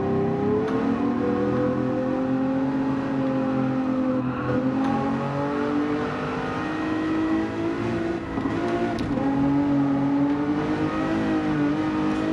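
Race car engine in the Gran Turismo 7 racing game, a loud sustained drone that rises and falls as the throttle is worked, with shifting pitch through gear changes and no talk over it.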